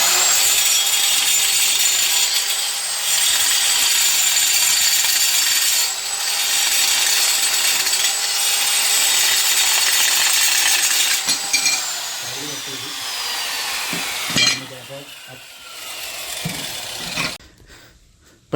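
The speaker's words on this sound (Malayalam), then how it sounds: "ഈ മെഷീൻ വെച്ച് നമ്മൾ ടൈല് കട്ട് ചെയ്യണം." A tile cutting machine cuts and grinds through a tile with a loud, continuous abrasive whine. The whine winds down after about eleven seconds into intermittent scraping and knocks.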